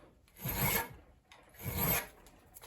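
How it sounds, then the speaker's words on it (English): A hand file rasps back and forth across metal clamped in a vise, two slow, distinct strokes that swell and fade, close up and alone. "run your file back and forth on there just 5 or 6 times"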